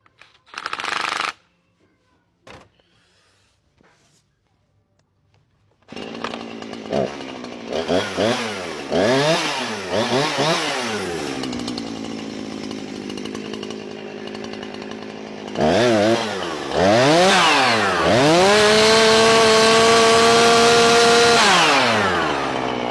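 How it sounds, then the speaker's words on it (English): An older, repaired Husqvarna chainsaw revs in repeated bursts, rising and falling, then settles into a long steady full-throttle whine while test-cutting wood, loud and close, after a few quiet clicks. "We'll go do a few test cuts with it out back"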